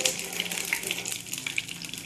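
Mustard seeds, fenugreek, dried chillies and curry leaves frying in hot oil for a tempering, giving a close, steady crackling sizzle with small pops throughout, no voices.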